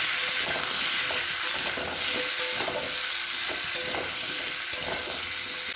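Pieces of fish seasoned with turmeric and salt fry in hot oil alongside papaya and potato, a dense continuous sizzle with small crackles and pops, close and steady without pause.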